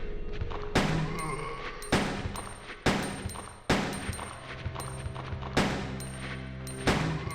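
Gunshots in Resident Evil 2, about seven loud, sharp single shots at irregular intervals of roughly a second, each with a short ringing decay.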